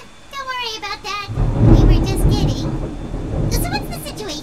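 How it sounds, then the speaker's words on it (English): Thunder rolls in with a deep rumble over falling rain during a thunderstorm outside, heard beneath a person talking, with rain hiss continuing throughout. "ignore the thunderstorm and the rain"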